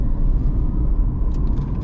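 Renault Kwid electric car accelerating on a road, a steady low rumble of road and motor noise heard from inside the cabin, with faint higher whirring near the end.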